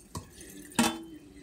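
Strawberry water is dumped down a drain, heard as two quick faint splashes a moment apart, the second fuller and trailing off briefly.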